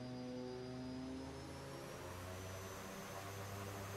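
Both engines of a de Havilland Twin Otter run at full throttle in the flight simulator X-Plane 11, making a steady, loud turboprop drone with layered humming tones that shift slightly in pitch.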